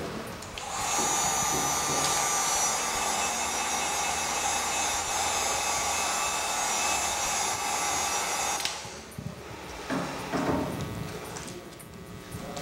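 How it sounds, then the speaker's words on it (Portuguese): An electric air blower drying a painted remote-control holder craft piece, a loud steady whining whoosh that runs for about eight seconds, then cuts off, leaving quieter handling noises. "Eu vou utilizar o soprador porque ele é mais rápido"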